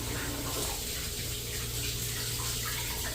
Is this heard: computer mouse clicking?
no